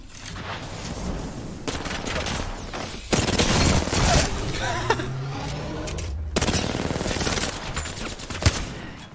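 Automatic weapon fire in the video game Apex Legends bursts in long rapid volleys, loud and close, separated by short lulls with scattered single shots and mechanical clicks.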